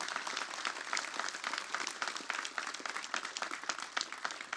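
Audience applause at a Roland press conference at NAMM 2017, steady dense clapping from a crowd that holds at an even level throughout without any talk over it.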